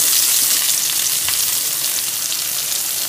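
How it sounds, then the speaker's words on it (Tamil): Chopped onion, added after garlic for palak paneer, sizzles steadily in a hot pan with a dense, loud crackling hiss and occasional stirring, with no talking. "இப்போ வெங்காயம் நல்லா பொன்னிறமாக வதங்கிடுச்சுங்க."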